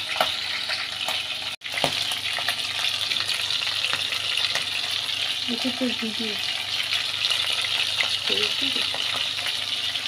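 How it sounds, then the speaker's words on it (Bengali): Chopped spiny gourd (kakrol) fries with garlic and onion in a pan, giving a steady close crackling sizzle with a few stirring taps and small metallic clinks, while soft voices murmur in the background. "তো এটা কাঁকরোল ভাজি হচ্ছে, রসুন পেঁয়াজ কুচি দিয়ে।"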